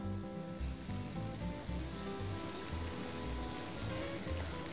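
Squid hits a hot frying pan of curry oil for sotong goreng kari, producing a dense, continuous crackling sizzle with popping, steady and close with no talk over it.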